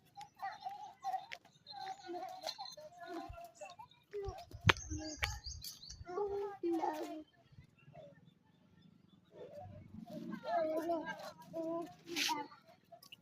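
Birds chirp and call near a house, the tweets scattered and partly buried under someone talking, with a louder burst of sound midway.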